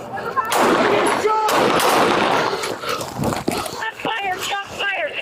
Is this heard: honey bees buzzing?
no